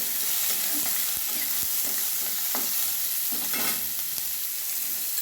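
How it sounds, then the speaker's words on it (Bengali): Chopped onion with salt fries in a pan, giving a loud, continuous close sizzle broken by occasional scraping stir strokes, with no voices. "এবারে প্রথমে আমি পেঁয়াজ কুচি দিয়ে দিলাম, লবণ দিয়ে দিলাম, তাড়াতাড়ি নরম হয়ে আসবে"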